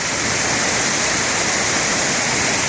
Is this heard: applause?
no